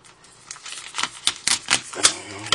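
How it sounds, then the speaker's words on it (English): A knife cuts open a plastic package of beef fat, making a run of close, crisp crackling slices and tearing snaps that grow louder and more frequent toward the end. "right now I'm just gonna go ahead and cut this open here"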